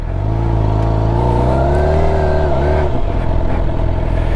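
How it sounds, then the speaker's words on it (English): A motorcycle engine revs hard on a ride, a loud, close, rising drone that climbs in pitch and then drops away near the end, with no other sounds over it. "So I just wanted to listen to the bike"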